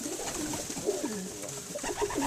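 A breeding cock pigeon coos in a low, rolling series of warbling calls, close and fairly loud, with steady background noise and no talk.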